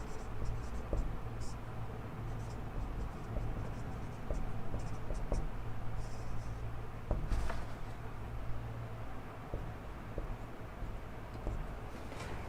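A teacher writing notes during a reasoning lesson on blood relations, with soft repeated scratching strokes of writing over a faint steady background hum.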